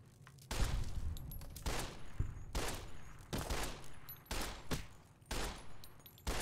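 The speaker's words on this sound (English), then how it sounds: "Alright, we're gonna switch over to the pistol." Repeated pistol shots from Fallout New Vegas, sharp broadband bursts coming roughly every second in a steady rhythm, loud and close, with game ambience between them and no talk.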